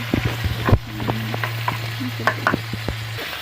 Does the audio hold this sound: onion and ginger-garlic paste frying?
yes